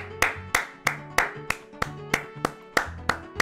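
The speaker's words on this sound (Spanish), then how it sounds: "¿Puedo pedir un aplauso para Miguel, por favor?" Handclaps in a show of applause for a man named Miguel: about ten sharp, evenly spaced claps in a steady rhythm, close and clear, with no talking.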